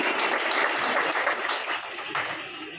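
Listeners at a gathering celebrating a pigeon-loft roof opening in Pakistan break into steady, dense applause that carries for about three seconds and tapers slightly toward the end.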